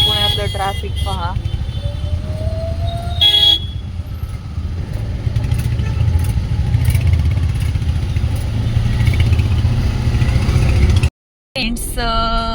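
Cars and motorcycles moving through Pune traffic on a cloudy day: a continuous engine drone with a few horn toots and a passing rev, over nearby talk, briefly cutting out near the end.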